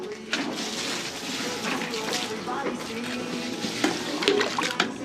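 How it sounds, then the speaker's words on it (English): Rainwater splashing and pouring out as a garden wagon is tipped and emptied outdoors, a steady gushing wash of water with a few louder sloshes near the end. "let me get my wagon, which is a shame because it's full of water, nice rainwater, but I'm going to have to empty it"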